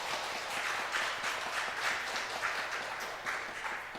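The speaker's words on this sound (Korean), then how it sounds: "우리 박수로 환영할까요?" A church congregation claps together at a Sunday service to welcome a first-time visitor, a steady wash of many hands at moderate level and fairly distant, holding evenly without a voice over it.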